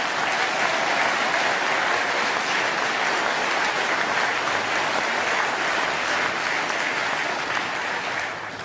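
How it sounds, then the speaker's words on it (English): A conference hall audience gives sustained, dense applause at a UKIP party conference, a steady wash of clapping that holds for several seconds before beginning to fade. "Please give them a round of applause"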